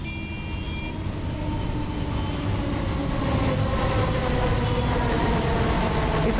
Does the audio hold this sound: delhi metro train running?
yes